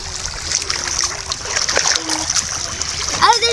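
Children splash and play in shallow sea water on an Easter Sunday outing, with steady close splashing and sloshing under lively chatter and voices.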